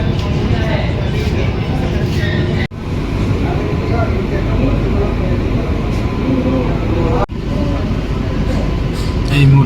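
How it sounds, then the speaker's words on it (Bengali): An air-conditioned suburban local train on the Sealdah line rumbles into Dum Dum Junction, a loud continuous interior roar with two sharp momentary dropouts, as though passing gaps or joints. "এই মুহূর্তে আমাদের ট্রেন এখন দমদম জংশন প্রবেশ করছে"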